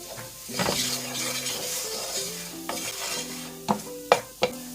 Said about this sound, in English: Make sure you always stir your pasta so it doesn't stick.